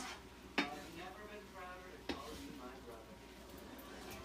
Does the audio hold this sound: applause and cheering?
no